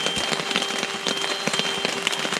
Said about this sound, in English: So it's started raining pretty good right now.